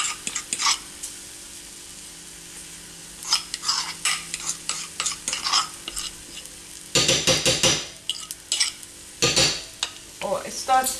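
A spicy chickpea flour wrap cooking in a pan makes a low background sizzle punctuated by repeated scraping and tapping of a utensil against the pan, with a louder burst of clattering and hissing near the end, close up and without talk.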